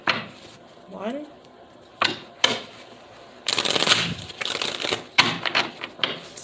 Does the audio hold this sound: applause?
no